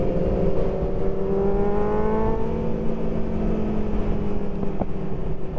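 Superbikes, including a BMW S1000 RR, roar past on a road in Cape Town at sunset, a loud steady engine drone with rising revs and a sharp exhaust pop near the end.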